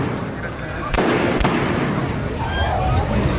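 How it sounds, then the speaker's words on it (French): Two sharp gunshots ring out about half a second apart amid a loud, noisy crowd murmur that carries on throughout, beside the bronze door of the basilica during the attack on Pope John Paul II. "3 coups de feu et une clameur d'effroi qui s'élève au-dessus de la foule"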